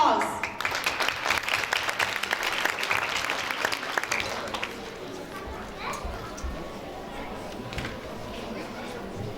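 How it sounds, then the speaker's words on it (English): A school audience at an annual event applauds to welcome the principal, a dense burst of clapping that swells at first and then thins out while children chatter beneath it. "Please welcome him with a round of applause."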